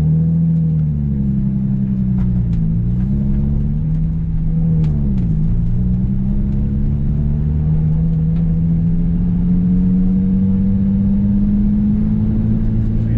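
Nissan 350Z engine holding steady revs while drifting, a loud, continuous close drone inside the car with a couple of short dips and recoveries in pitch and a slow rise toward the end.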